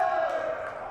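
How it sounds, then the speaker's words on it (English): Student section crowd at a high school boys varsity basketball game, a brief burst of mixed voices and cheering in a gym, fairly close and loud, with an announcer's voice over it. "Student section making a little noise."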